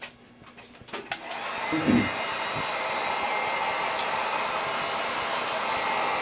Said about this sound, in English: Alright, so I'm going to get my heat gun.